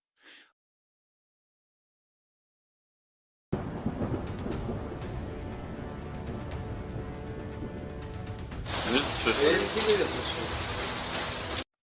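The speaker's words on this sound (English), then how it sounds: "Bright lightning lights up the night sky, cracking through heavy clouds above the area." Thunder from bright lightning cracking through heavy clouds in a night sky, a sudden loud rumble after silence that swells into a harsh crackling burst, heard up close.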